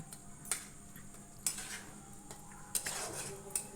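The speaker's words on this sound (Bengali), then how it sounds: "এবার লঙ্কা রসুন আর এই কচুটাকে ভালো করে একটু লেড়ে নেব" A spoon scrapes and taps against a pan while taro paste is stirred with chili and garlic, giving sharp metallic clinks at irregular intervals over quiet, faint scraping.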